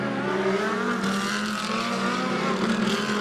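GT2 race cars rolling away on the formation lap at the Red Bull Ring, a steady layered engine drone with pitch shifts from several cars, at moderate distance.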